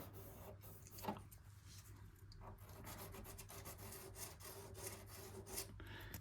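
Sandpaper rubbing rust off the body of a Mazda MX-5 NC Mk3 Miata, a steady dry rasping scrape repeated in quick back-and-forth strokes, close and fairly loud, with no talking.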